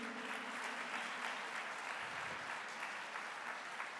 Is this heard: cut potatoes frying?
no